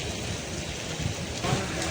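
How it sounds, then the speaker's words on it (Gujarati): Heavy rain falling outdoors during a downpour, a dense steady hiss of rain on surfaces with a few louder drips and splashes, with faint talk underneath. "વરસાદ ફૂલ ચાલુ છે"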